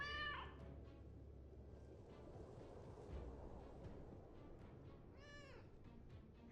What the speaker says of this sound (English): oh look, there's a cat.